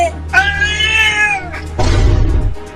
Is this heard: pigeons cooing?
no